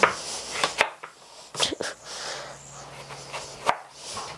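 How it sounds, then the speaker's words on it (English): Knife slicing strawberries on a cutting board, a few sharp irregular taps and cuts against the board, close and clear with no talking. "we're going to just cut some slices across your board."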